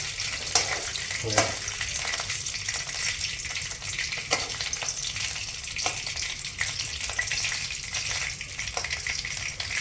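Raw peanuts roasting in oil in a pan, stirred with a spoon, give a steady close sizzle broken by several sharp scraping stirs, with no talk.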